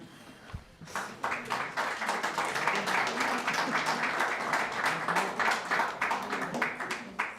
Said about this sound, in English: You can clap now if you'd like.